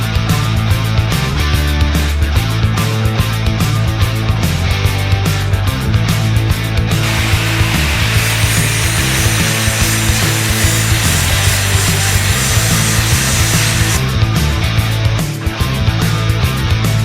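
Power tool grinding and sawing against the rusty steel of a disc harrow, stripping crud down to bare shiny metal and beveling it for welding; a loud, steady abrasive whine runs throughout with no talk.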